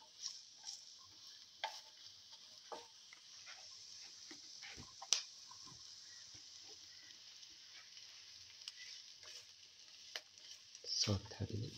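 Onions sizzling faintly in a pan while being cooked for a rice dish, a soft steady hiss broken by scattered stirring scrapes and clicks, with a louder clatter near the end.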